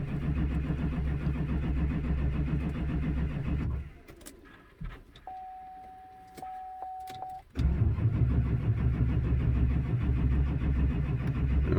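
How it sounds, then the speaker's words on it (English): A 2004 GM 2500HD truck with a 6.6 Duramax diesel engine, suffering a fuel suction leak, cranks and rumbles, drops to a quiet pause with a short beep and clicks, then catches and settles into a loud steady diesel run. "We're going to see if it'll start"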